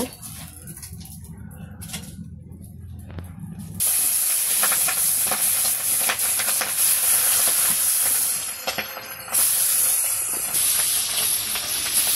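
Pieces of pabda and hilsa fish fry in oil in a village kitchen. A quieter stretch gives way to a loud, continuous sizzling hiss that stays strong with small crackles, and nobody speaks.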